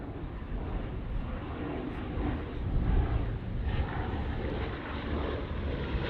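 A Bristol Blenheim 1F fighter flying at the Duxford Battle of Britain airshow, a steady, muffled propeller-engine drone that swells slightly midway, heard from a distance with wind buffeting the microphone.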